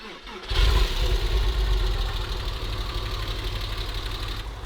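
A Porsche 911 engine idles steadily after a first start, with the car's rear end jacked up high; a loud, close, continuous low rumble with a slight uneven knock and no talking.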